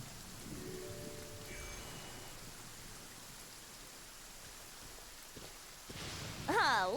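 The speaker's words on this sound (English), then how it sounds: "I don't think it's supposed to be raining and thundering like this" Steady rainfall and low rumbling thunder in the video game Genshin Impact, a continuous wash of rain throughout with a few brief tonal game chimes rising near the end.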